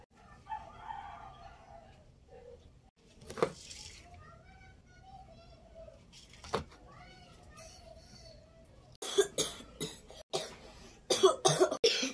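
Several short, harsh coughs come in a quick cluster near the end, after quieter stretches of faint voices and a couple of isolated sharp bursts.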